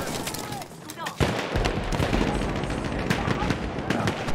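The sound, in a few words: MG08 machine gun firing in the video game Battlefield 1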